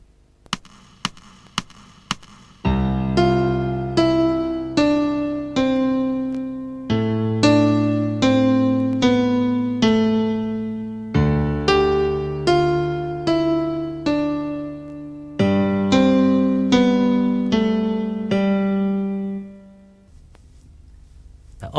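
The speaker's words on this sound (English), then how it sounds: "I'll play several examples of chord sequences that have been dressed up to add interest" A sequence of piano chords dressed up with suspended fourths and added ninths, opening with a few detached notes and then sustained chords moving steadily, played alone and loud.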